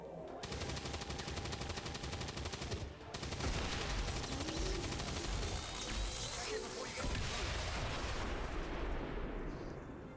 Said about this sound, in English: Yet another loud explosion.